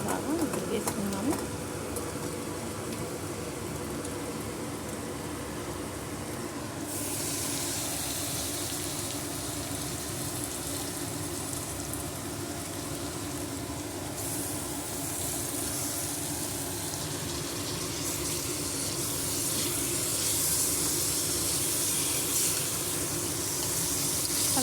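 Chicken pieces hit hot oil in a pan for a chicken gravy, setting off a steady, dense sizzle and crackle that continues close up throughout, with a voice speaking over it now and then.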